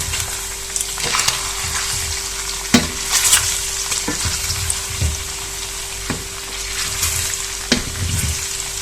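Pork fat and meat for traditional Thessalian cracklings and lard frying in a pot, with a steady loud sizzle broken by repeated scraping thumps of a spoon stirring, close up and without speech.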